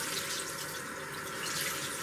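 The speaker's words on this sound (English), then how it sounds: "we're just going to rinse it out until the water runs clear" Water runs steadily from a tap as a Beauty Blender makeup sponge is rinsed, a continuous soft hiss and splash with no pauses.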